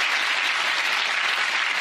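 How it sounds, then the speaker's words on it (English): Steady, dense applause from a TV magic show studio audience, continuous clapping at a constant loud level with no voices. "Give her a big round of applause, ladies and gentlemen."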